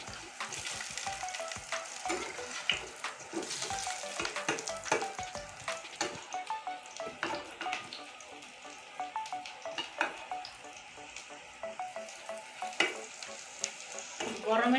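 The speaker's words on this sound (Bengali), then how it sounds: "এখানে আমি আলুটা এখন উল্টিয়ে দিচ্ছি" Potatoes fry steadily in a pan with a continuous sizzle, broken by scraping stirs and clattering knocks as the pieces are turned over, with no talking.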